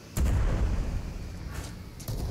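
Airship cannon fire in the video game Worlds Adrift during a ship battle: a heavy booming shot followed by further blasts that fade out, loud and close, with no speech.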